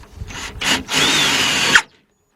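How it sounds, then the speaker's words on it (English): A power drill drives two screws into the right window regulator of a 2000 Dodge Ram Van B1500: two short whirring bursts, then a longer steady run that ends with a brief tightening rise and stops, close and loud. "And tighten these two screws up."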